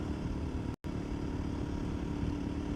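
A cheap adventure motorcycle riding along a dirt road, its engine a steady close drone with wind rush and one brief dropout.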